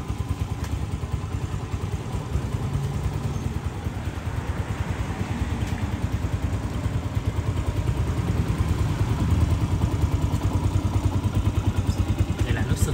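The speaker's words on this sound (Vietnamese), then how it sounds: "Máy nổ rất là im luôn" A used motorcycle offered for sale in Củ Chi idles smoothly and quietly with a steady, even putter that carries on throughout, close by and never revving.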